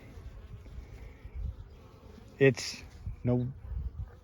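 Bees buzz around an open hive on a farm during a spring evaluation on a mild day, a steady low hum underneath someone speaking, with a couple of sharper close passes.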